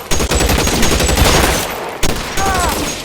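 Dense, sustained gunfire from a shootout in the video game L.A. Noire, rapid bursts filling the whole stretch with only a brief lull, loud and close.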